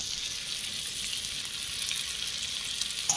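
Soybean chunks sizzle steadily in a pan over a wood fire, a constant close hiss of frying with a faint stir-like crackle near the end and no voices.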